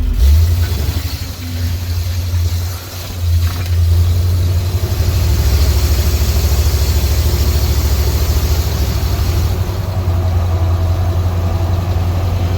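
A 1978 Ford Bronco engine: low and rumbling, running steadily and loudly throughout, with a rough idle and a faint hiss on top; no voices.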